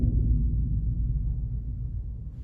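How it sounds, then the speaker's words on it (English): A bass drum struck lightly at the edge of its head gives a soft, distant low boom that sustains and slowly fades over a couple of seconds, with no voices. "Let's start off by striking the edge."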